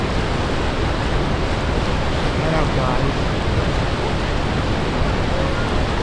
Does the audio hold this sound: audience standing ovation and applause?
no